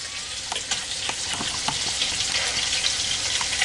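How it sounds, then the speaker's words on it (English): Hamburger steak patties frying in a pan give a steady, bright sizzle with occasional pops and crackles, fairly close and continuous, with no talk. "This is just kind of sizzling and doing."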